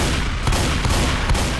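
Gunfire in Left 4 Dead 2 during a zombie co-op round: a steady wash of rapid shots and muffled bursts, with a few sharper cracks standing out at intervals, continuous and fairly loud throughout.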